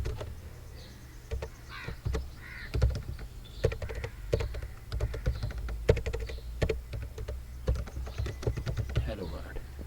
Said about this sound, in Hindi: मैं यहाँ पे लिखता हूँ system dot out dot print